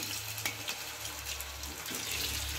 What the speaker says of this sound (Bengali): আমি এবার কপিগুলো ভেজে নেব। এবার গ্যাসটা খুব কম করে রাখছি